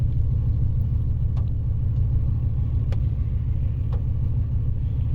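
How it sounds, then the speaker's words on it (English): Steady low rumble of a Dodge Hemi engine inside the car while driving, a continuous close drone with a few faint clicks, no talking. "I'm driving a Dodge."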